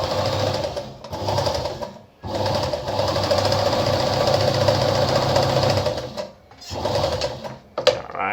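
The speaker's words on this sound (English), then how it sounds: "So I'm gonna sew through again so you can see how the stitches go through right now" An Anker RZ treadle sewing machine runs a zigzag stitch with a loud, close, rhythmic chattering whir, sewing in long runs broken by short pauses and a final quick stop.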